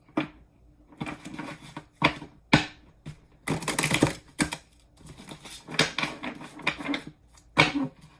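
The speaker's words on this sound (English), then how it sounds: "I just want to make sure these are like really freaking shuffled." Tarot cards being shuffled in several quick riffling bursts with short pauses between, close by, no talking.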